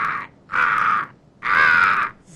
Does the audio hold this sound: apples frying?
no